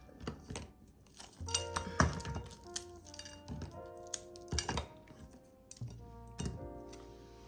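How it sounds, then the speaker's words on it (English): English butter toffee gets snapped into pieces in a home kitchen, with sharp irregular cracks and brittle clinks as the shards hit a hard surface. The breaks come in scattered bursts across a quiet background. "we're just gonna break it into pieces"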